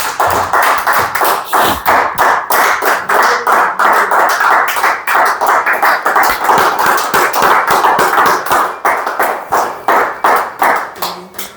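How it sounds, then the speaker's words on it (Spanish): A church congregation claps in unison, a loud, steady rhythm of sharp hand claps repeating throughout at a brisk tempo. "Denle un aplauso al Señor."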